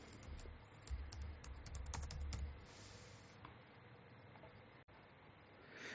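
Keys tapped on a computer keyboard in quick irregular bursts, close and quiet, a medicine name being entered, with a faint steady background hum and no voices.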